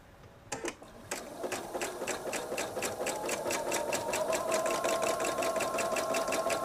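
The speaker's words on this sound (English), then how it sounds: "What I am doing is called chain piecing. I am just going along and I'm keeping everything together." A sewing machine chain-pieces patches for a patriotic disappearing nine patch quilt. After a few brief clicks it settles into steady, rapid, close-up stitching that runs on without pause.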